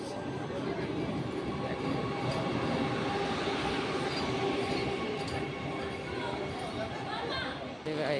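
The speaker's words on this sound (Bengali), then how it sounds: "এই যে ঢুকে পড়েছে আমাদের বন্দে ভারত এক্সপ্রেস।" The Vande Bharat Express pulls into Coochbehar railway station with a continuous loud rolling rumble and faint squeal, while platform chatter from people carries on underneath.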